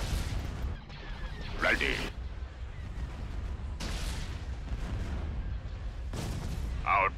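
Laser cannons fire in a space battle in the strategy game Star Wars: Empire at War, with repeated booming blasts and bright zaps over a constant rumbling battle din, while a voice speaks briefly.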